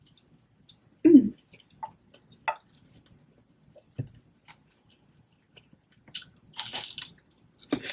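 Sparse, close crunches and wet chewing sounds of a baby cucumber, a few distinct bites separated by quiet pauses.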